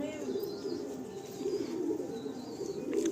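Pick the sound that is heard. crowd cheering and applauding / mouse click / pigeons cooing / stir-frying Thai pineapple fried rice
pigeons cooing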